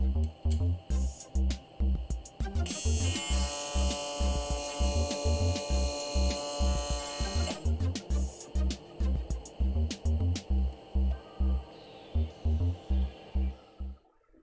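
A TIG welder strikes an arc to ball the end of a tungsten electrode, a bright buzzing crackle of several seconds over a pulsing low electrical hum that continues before and after the arc.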